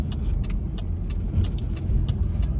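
Cabin of a 2009 Pontiac G8 GT cruising at 70 mph on a light throttle, a steady low road and engine rumble with small rattles and ticks over it.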